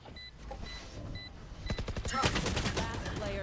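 Rapid video game gunfire shooting through a wall during a varsity esports match, a dense burst of close shots that swells and continues after a few quieter beeps and clicks at the start.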